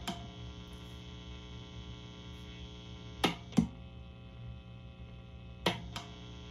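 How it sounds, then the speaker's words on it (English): A hand-wound guitar pickup played through an amplifier gives off a steady, buzzing mains hum at low level, broken by a few sharp clicks near the end. "The hum from the pickup that I just wound."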